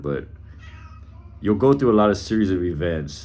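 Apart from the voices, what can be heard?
cat meowing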